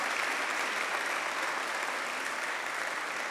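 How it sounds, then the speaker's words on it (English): A church congregation at Abyssinian Baptist Church gives a round of applause, a dense, even wash of many hands clapping that holds steady, heard from a distance in a large room. "let's give them a resounding round of applause"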